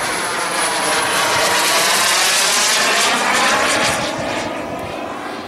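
Loud airplane engine roar sweeping past at an air show during a gear-down pass, a broad whooshing drone that builds and then slowly fades as the aircraft moves away.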